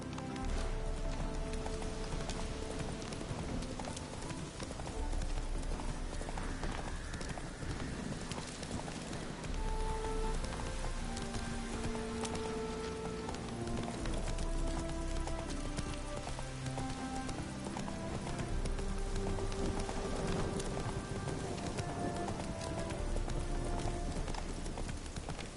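Roach the horse's hooves clip-clop in a steady trotting rhythm through rain in The Witcher video game, with pattering rain and background music beneath the close hoofbeats.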